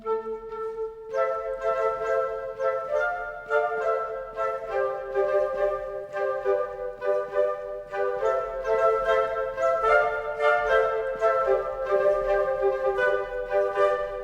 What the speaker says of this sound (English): we have the Woodwind highs